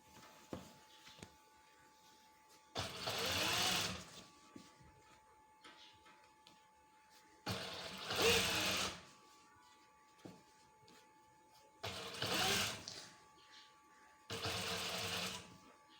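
Sewing machine stitching a kamiz shirt seam near its edge, running in four loud bursts of a few seconds each with quiet pauses between, close up, with a little soft talk in the gaps.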